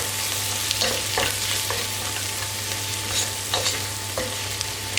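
Bulgur pilaf mixture with chili flakes, cumin, black pepper and salt sautéing in a pan, a soft continuous sizzle with several scraping stirs and a low steady hum underneath, no talking.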